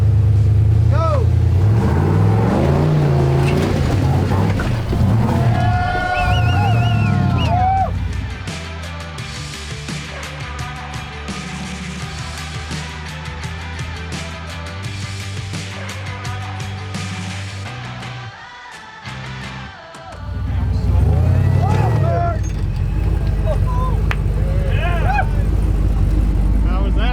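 An off-road vehicle grinds over rough Utah terrain, its engine rumbling and revving in surges that dip briefly before rising again. People talk over the steady mechanical roar.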